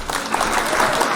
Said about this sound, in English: Can we hit the claps for Shayla?